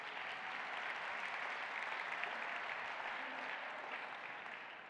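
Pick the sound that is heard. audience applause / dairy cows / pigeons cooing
audience applause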